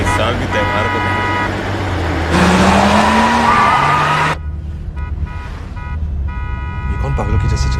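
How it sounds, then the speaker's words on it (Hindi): A car driven recklessly skids with loud squealing tyres and a roaring engine, then a horn toots as it pulls up close, with voices and background music running underneath. "कौन पागलों की जैसे चला रहे गाड़ी?"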